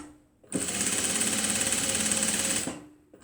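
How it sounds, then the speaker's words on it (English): A sewing machine runs a back stitch on a fabric tote bag, a loud, steady, fast mechanical whirr lasting about two seconds, with short quiet pauses before and after. "Back stitch, remember when you always start your back stitch."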